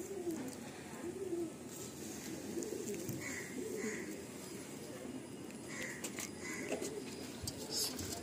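Low overlapping cooing from a loft of Madrasi pigeons continues for several seconds, with occasional higher chirps and light knocks, and a voice speaks faintly in the background.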